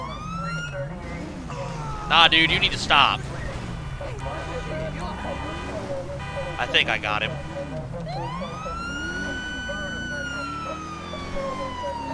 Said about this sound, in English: I did change the siren again.